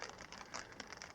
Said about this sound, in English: Always sounds like it's raining harder.